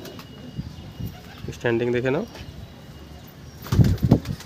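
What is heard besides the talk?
pigeons cooing and flapping wings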